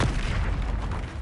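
A Bombarda spell goes off in Hogwarts Legacy, a short, heavy, close boom with a deep rumbling low end that fills the whole burst.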